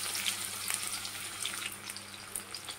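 Onions fry in hot oil in a kadai, a quiet, continuous sizzle with scattered sharp crackles and pops, close and soft.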